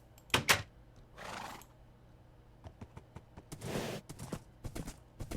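A saddled horse in the Minecraft video game walks slowly, its hooves landing in short clip-clop bursts with an occasional snort or breathy whinny, fairly quiet and alone.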